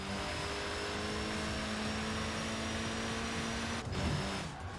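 Mazda drift car engine in the Forza Horizon racing game, a faint, steady high-revving whine holding one pitch with a brief scuff near the end, quiet and continuous.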